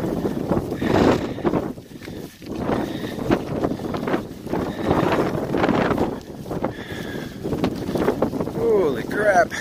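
Strong gusting wind on the Appalachian Trail buffets the microphone in heavy, rumbling surges that rise and fall, loud and close, with no clear speech.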